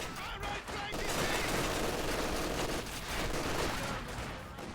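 MG42 machine gun fire in Company of Heroes 2 forms a dense, continuous battle din of rapid gunfire that stays loud throughout, with voices faintly mixed into the background.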